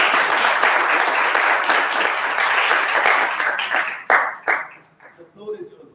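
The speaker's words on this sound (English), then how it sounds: "A big round of applause" An audience at a leadership fireside chat applauds a guest with dense, steady clapping that thins out into a few scattered final claps, with a voice briefly starting up at the end.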